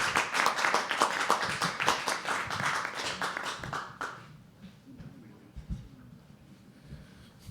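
Audience applause at a live poetry open mic, dense and loud with many hands clapping for about four seconds, then dropping abruptly to scattered faint claps and quiet room noise.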